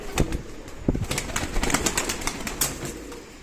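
A pigeon takes off and flies close by, its wings clapping and flapping in quick, sharp bursts spread irregularly over a few seconds.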